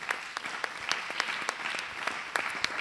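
A church congregation applauding to acclaim God during an evangelistic sermon, steady, dense clapping from many hands at a soft, distant level, with no speech over it.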